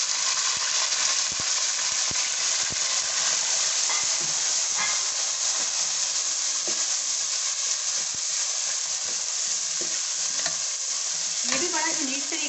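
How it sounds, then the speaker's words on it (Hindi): Onions go into a pan of garlic already fried golden, setting off a loud, steady sizzle with constant hiss and occasional clinks and scrapes of stirring, close up and without talk. "अब इसके अंदर डालेंगे हम ये अनियन अपने।"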